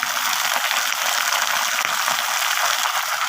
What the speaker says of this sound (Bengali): এগুলো খুব ভালোভাবে ফ্রাই হবে, তারপর আমি বাকি মশলাগুলো দেবো